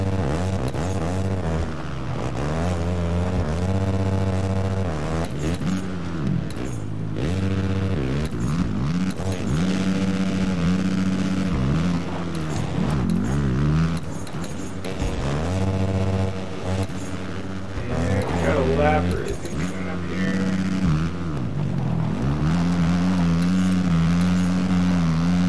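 450-class supercross motorcycles race around an indoor track, engines snarling and revving in overlapping waves as bikes accelerate and pass, a steady loud roar with pitch rising and falling throughout.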